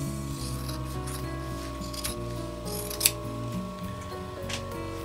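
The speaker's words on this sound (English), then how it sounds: "is cut out this inseam, just right along the stitching" Scissors snip along the stitched inseam of a pair of denim jeans being cut up to make a tote bag liner, giving steady close rasping cuts over a continuous humming background.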